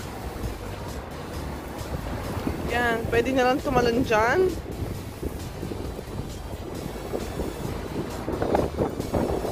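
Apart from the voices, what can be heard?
strong wind outdoors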